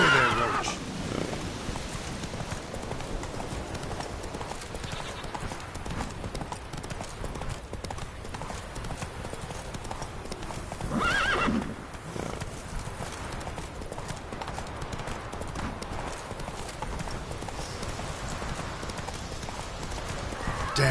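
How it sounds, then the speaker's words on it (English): Horse in The Witcher 3: Wild Hunt, hooves clip-clopping at a gallop with occasional neighs, fairly faint and continuous under game ambience, with brief talking. "Whoa there, Roach."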